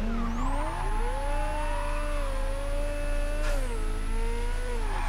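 An upgraded car engine in Mafia 3 revs hard and steadily with a loud, sustained whine, its pitch climbing and then dropping slightly as it holds high revs.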